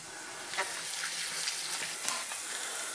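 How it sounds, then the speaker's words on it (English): Onions and garlic sauteing in a pot give a steady, close broadband sizzle with faint crackles and a brief watery splash, with no voices. "Just want to saute this."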